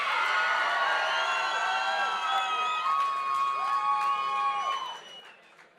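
A crowd at a ShamrockFC cage fight cheers wildly for fighter Damian Newman as he enters the cage. Loud sustained roaring and whistling, with screams and whoops rising above it, fades toward the end.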